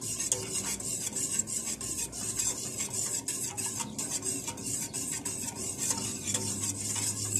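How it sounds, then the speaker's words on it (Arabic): A spoon stirs oven muhallabia mixture of milk, flour and butter in a pot as it heats toward a boil, giving steady scraping and clinking strokes against the metal, close and continuous with no talking. "هنفضل نقلب فيها كده لحد ما تغلي."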